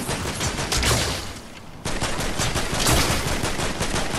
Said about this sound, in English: he's over here shooting at me on the right